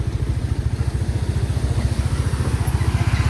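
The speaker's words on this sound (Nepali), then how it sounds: "बाइकमा बसिरहेको छु म त पछाडि" A Royal Enfield motorcycle, carrying a passenger on the back, thumps along at a steady low pulse. The rapid, even beat stays close and loud throughout, with no talk over it.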